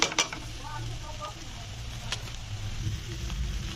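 Maggi noodles dropped into a hot pan with egg and stirred, a soft sizzle running underneath with a few scraping clinks of the utensil, moderately close and fairly quiet, and someone speaking briefly over it.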